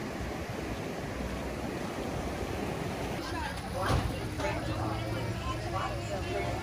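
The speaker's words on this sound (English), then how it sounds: "the peaceful sounds of the breaking waves" Ocean waves breaking on a beach at sunset in Wildwood, New Jersey, a steady broadband wash of surf with a louder swell near the middle, mixed with wind noise and distant background sounds.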